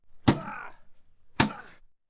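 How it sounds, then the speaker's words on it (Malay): Two heavy blows strike a rusted metal box pulled up by magnet fishing, each a loud close thunk with a short ringing tail, about a second apart. "Tinggal beberapa hentakan lagi."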